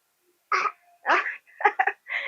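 A child with a cold coughs in four short, separate bursts spread over a couple of seconds, with brief silences in between.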